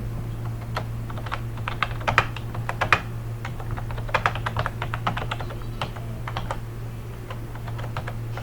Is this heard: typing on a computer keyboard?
yes